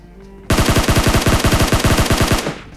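Rapid burst of automatic gunfire in a battle royale video game, about twenty sharp shots in a quick, even rhythm lasting roughly two seconds, loud and close, with no talk.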